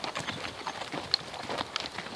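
Hooves of a horse trotting through a radiata pine plantation in New Zealand, a steady run of soft, fairly faint clip-clop beats with light outdoor ambience and no talk.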